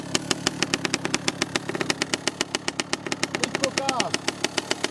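A KTM SX 65 two-stroke motocross bike runs close by with a rapid, buzzing pulse of firing strokes and small revs; voices speak briefly.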